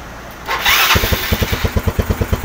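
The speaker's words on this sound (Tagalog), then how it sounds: "umaandar na yung Mio" A Yamaha Mio Sporty scooter fitted with an aftermarket programmable CDI is started: a short whirring crank, then the engine catches and settles into a quick, even putter, close and loud.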